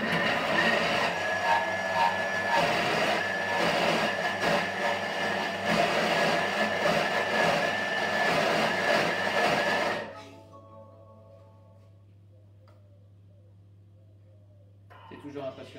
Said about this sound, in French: Là on va mixer un petit peu plus fort.